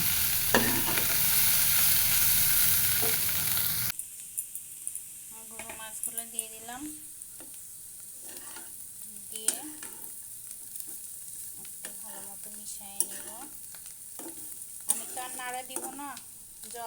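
Turmeric frying with potatoes in a pan before fish goes in, a loud continuous sizzle at first, then quieter crackling with scattered clinks and scrapes of a spoon against the pan.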